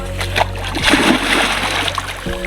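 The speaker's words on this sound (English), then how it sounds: "they swim in this natural lake of Nakivale, and he's showing me how they do swim" A swimmer splashes and churns the water of natural Lake Nakivale, a steady, close wash of splashing and sloshing that runs unbroken throughout.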